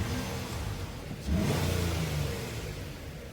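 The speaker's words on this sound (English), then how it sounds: "We'll have to rev it up once or twice to get it to come set all the way down." A Nissan engine idles, then revs up once with a quick rising surge and settles back toward a low idle during an idle relearn, heard close and alone.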